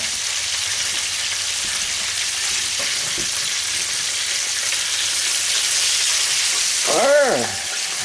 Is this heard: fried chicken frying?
yes